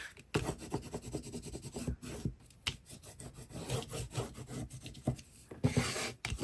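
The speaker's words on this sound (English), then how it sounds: "burnishing so that it will adhere, so that I know that tape is adhered" A bone folder burnishes double-sided tape down onto Tomoe River paper with quiet, close rubbing strokes, each one a soft scratchy rasp in an uneven rhythm.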